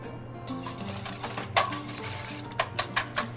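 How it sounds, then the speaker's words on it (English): Eggs are combined in a bowl for a fruit tart filling, with a utensil clinking and scraping against the bowl, ending in a quick run of rhythmic taps, close and without talk. "in a bowl, I am combining eggs"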